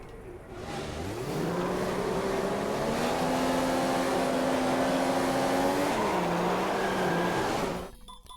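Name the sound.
F1 2015 video game race cars revving at race start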